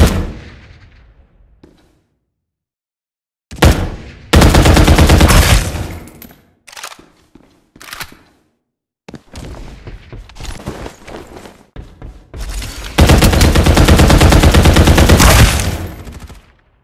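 Bursts of automatic gunfire in the battle-royale video game Farlight 84, several loud sustained volleys separated by short single shots and brief quiet gaps.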